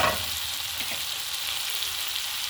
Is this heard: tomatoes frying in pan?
yes